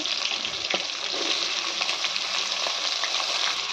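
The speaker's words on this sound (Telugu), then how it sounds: "ఇప్పుడు అదే ఆయిల్లో మసాలాలు అన్నీ వేసేసుకుని తర్వాత పచ్చిమిర్చి, ఉల్లిపాయలు" Spices, green chillies and onions fry in hot oil while egg biryani is prepared, giving a steady close sizzle with occasional stirring clinks and scrapes.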